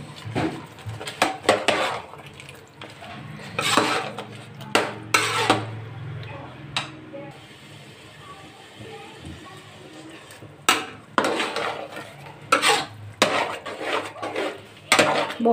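Carrot halwa with khoya, pistachios, almonds and dry fruit being mixed in a pot: irregular clanks and scrapes of a spoon against metal come in bursts with quieter gaps, close by.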